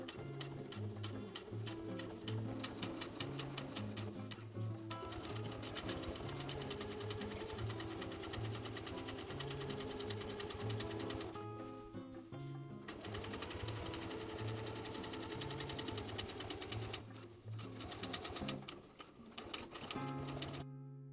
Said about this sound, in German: Dann übersteppe ich sie mit 2 und 8 mm Abstand von der Naht in kontrastfarbigem Garn.